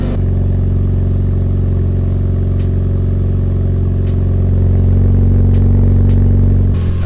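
A car engine idling with a newly installed Hyperflow cat exhaust, a loud, deep, steady drone with a rough low throb, close and continuous, with a few faint clicks and a quick rev near the end.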